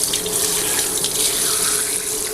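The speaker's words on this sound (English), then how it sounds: "So I'm just gonna rinse this just a little bit." Fish being rinsed under a running kitchen tap, a steady, loud, close rush of faucet water splashing into a sink without pause.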